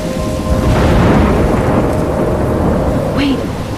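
A thunderstorm in the video game Life is Strange: steady heavy rain hisses and a low thunder rumble rolls through, loud and continuous, with a brief higher whistling tone near the end.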